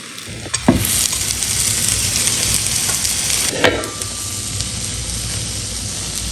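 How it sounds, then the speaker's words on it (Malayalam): Kaipola batter flipped into a pan of hot oil sizzles and fries steadily, with a sharp burst of crackle as it lands and a second flare a few seconds later, close and fairly loud with no talking. "ഇനി അതിനെ നമുക്കൊരു വേറെ പാൻ എടുത്ത് കുറച്ച് ചൂടാക്കി ഓയിലും ഒഴിച്ച് ഇതിനെ മറിച്ചിട്ട് കൊടുക്കാം"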